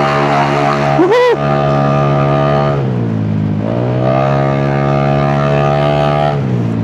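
A Honda Giorno scooter, bored from 125 to 160cc, revs hard at three-quarter throttle, its engine holding a loud, steady whine that dips once and climbs again, after a brief whoop near the start.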